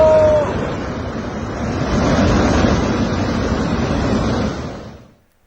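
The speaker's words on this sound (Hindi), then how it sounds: "जिस वक्त बादल फटा उसके बाद किस तरह से अचानक पानी इस तरह से बहता हुआ लाहौल स्पीति के उदयपुर इलाके में घुस गया" Floodwater rushing through the Udaipur area of Lahaul-Spiti after a cloudburst, a loud continuous roar of churning water that swells midway, then fades out.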